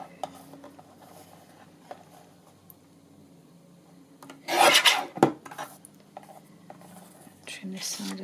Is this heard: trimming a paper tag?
yes